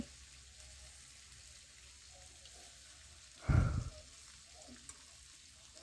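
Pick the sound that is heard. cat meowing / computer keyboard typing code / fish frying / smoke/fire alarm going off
fish frying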